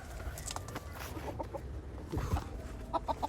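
A farmyard rooster gives a series of short clucks, some clustered together and others spaced out, over a quiet outdoor background.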